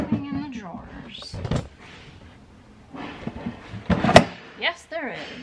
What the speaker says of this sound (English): Is there anything in the drawers?